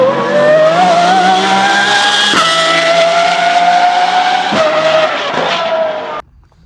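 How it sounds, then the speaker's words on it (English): A modified, lowered Pagani Zonda V12 supercar roars close by with a high, sustained engine wail that climbs in pitch, broken by brief shifts, then cuts off abruptly near the end. "It's way lower down, has a insane V12 sound off it."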